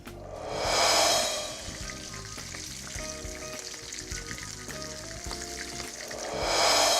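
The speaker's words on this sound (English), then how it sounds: "See how they're frying away there?" Loud sizzling of veal frying in olive oil in a hot pan, with crackling pops and occasional stirring scrapes, swelling near the start and end.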